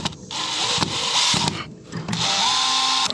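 Power drill driving supplied screws to mount an LED barn light, several short whirring bursts with brief pauses between, close and loud, no talk.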